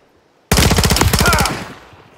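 Burst of automatic gunfire from a firefight in the Call of Duty Modern Warfare III campaign, set in frozen tundra: one loud, rapid volley of close shots starting abruptly after silence and lasting about a second before a short decay.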